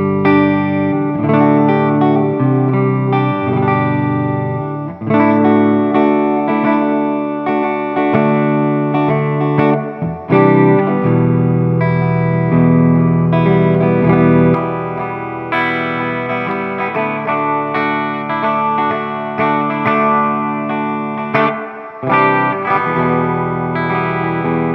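Electric guitar played through a Boss RV-5 digital reverb pedal on the spring setting with light reverb, sustained chords and notes ringing with a soft tail, loud and alone with no talk.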